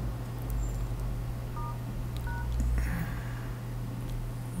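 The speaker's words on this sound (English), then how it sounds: "go to the dial up here and then you dial the number." Keypad dialing tones from an Android phone, a few short separate beeps over a steady low hum, with no talk.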